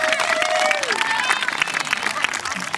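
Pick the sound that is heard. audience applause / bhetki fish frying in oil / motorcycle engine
audience applause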